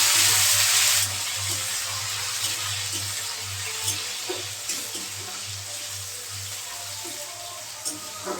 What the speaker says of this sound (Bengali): পেঁয়াজ কুচানো দিয়ে দেব।